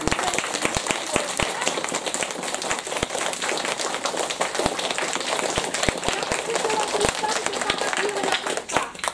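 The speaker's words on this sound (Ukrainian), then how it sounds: "Ви маєте зараз шанс оплесками подякувати один одному" Audience applause at a police community event in Chervonohrad, a sustained crowd clapping with dense, crisp individual claps throughout, fairly loud, with voices faintly mixed in.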